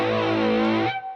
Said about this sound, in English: Which is the gain on the distortion pedal.